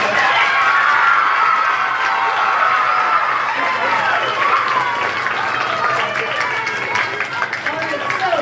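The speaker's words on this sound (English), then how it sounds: "So let's give a big round of applause for this." Elementary school audience at a geography bee applauds and cheers, children shouting and whooping over steady clapping, loud at first and gradually thinning toward the end.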